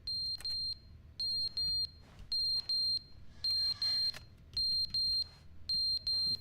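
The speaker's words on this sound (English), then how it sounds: "Fire alarm is going off?" A fire alarm in the video game The Stanley Parable, sounding as a regular series of loud high electronic beeps in short bursts with brief gaps, repeating throughout with no talk.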